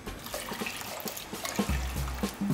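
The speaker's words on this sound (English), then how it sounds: "add 600 milliliters of boiled water" Boiled water poured onto 300 grams of washed basmati rice in olive oil, a steady watery gush building into a low, full pour toward the end, close and alone.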